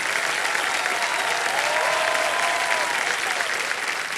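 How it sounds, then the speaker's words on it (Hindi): A studio audience on the game show Kaun Banega Crorepati gives contestant Vijay a steady round of applause, dense and sustained at an even loudness, with a faint tonal music swell underneath. "तालियां बजते रहे विजय जी के लिए।"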